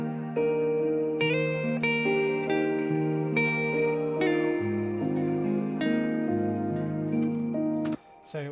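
An unused guitar lead recorded for a song's bridge, pitched back down an octave, plays a sustained melodic line of ringing notes with slight echo, steady and moderately loud, ending with a few sharp clicks.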